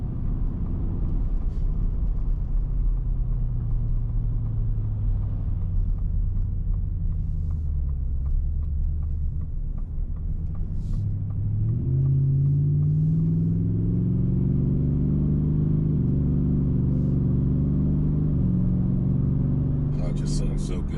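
A 2023 Ford Raptor R pickup engine while driving, heard from inside as a deep steady rumble that rises in pitch as the truck accelerates partway through, with someone talking throughout.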